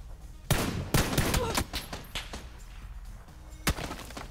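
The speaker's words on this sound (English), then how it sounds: "Take a couple shots, little warning shots." Several sharp gunshot bursts crack out in a video game, loud bangs near 0.5 and 1 second followed by quieter scattered shots and one more hard report late, fired as warnings with no talking.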